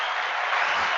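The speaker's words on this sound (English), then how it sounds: "I come with my own applause track" A brief burst of applause from a canned applause track, a steady wash of crowd clapping lasting about a second and cutting off abruptly.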